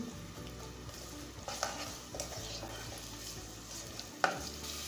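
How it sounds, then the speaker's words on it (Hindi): Chopped onions sizzle steadily in a hot pan as a spoon stirs them, with soft scraping strokes and a sharp clink of utensil against metal near the end, no voices. "प्याज हमें अच्छी तरीके से फ्राई करने हैं।"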